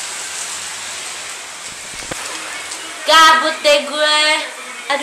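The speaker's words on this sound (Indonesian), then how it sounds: "Aduh, hujannya gede banget. Oh, lebat banget hujannya." Heavy rain pours down outside a workplace as a steady, loud hiss throughout. Someone speaks over it in short bursts near the end.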